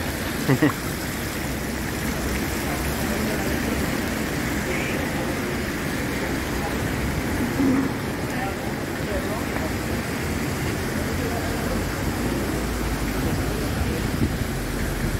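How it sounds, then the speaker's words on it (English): Water splashing and rushing steadily from a water feature in a Hong Kong garden park, a continuous wash that stays constant throughout, with faint talk and city sound mixed in. "Very nice water feature here."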